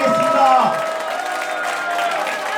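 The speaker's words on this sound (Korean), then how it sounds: "다시 한번 더 뜨거운 박수를 부탁드리겠습니다." A crowd at a political campaign office opening gives warm applause and some cheering, fading from a fuller burst to a softer patter, with voices mixed in.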